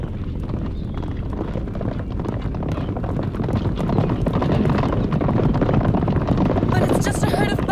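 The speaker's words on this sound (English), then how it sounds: "But it's just a herd of buffalo." A herd of buffalo stampedes through the jungle, a dense, continuous thunder of hooves that builds slightly louder over time, with wind-like rushing noise throughout.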